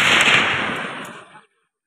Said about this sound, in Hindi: फायरिंग कर रहे हैं।